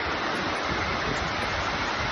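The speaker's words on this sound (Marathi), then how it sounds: "जस्ट ऑटोतून उतरलो आणि पाऊस खूप जोरात आलाय." Heavy monsoon rain pours in Virar, a dense, loud, unbroken hiss of downpour close by, with no voices.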